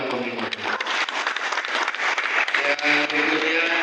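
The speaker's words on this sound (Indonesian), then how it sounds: "Tepuk tangan buat Kominfo." Applause from the audience at a regional government press briefing on annual performance achievements, a steady wash of clapping hands lasting several seconds with a faint voice underneath.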